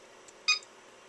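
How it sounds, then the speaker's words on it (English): A single short electronic beep from an FMA PowerLab battery charger switching presets, bright and clear against a quiet background hiss. "you can hear the charger beep and it's switching presets"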